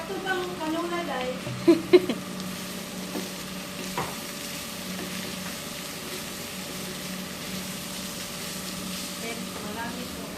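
Bagoong (uyap) shrimp paste frying in canola oil, a steady sizzle with stirring clatter, a couple of sharp utensil knocks early on, and occasional voices in the background.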